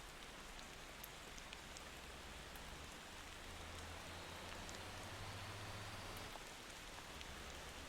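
Rain falls in the Motor Town driving game as a faint, even hiss that keeps going the whole time, with a low engine rumble underneath.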